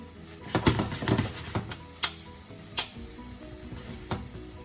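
Mixed vegetables with onions and peppers sauteing in a pan for Japanese curry, a low steady sizzle broken by a few sharp scrapes and clatters of a utensil stirring against the pan.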